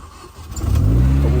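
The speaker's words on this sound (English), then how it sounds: "so you guys can hear the exhaust and from the rear and from the front, so obviously you'll get a bit of supercharger noise as well" A Mini Cooper S R53 engine rises from a soft idle into a loud, close rev, its exhaust rumble building with a supercharger whine over a brief burst.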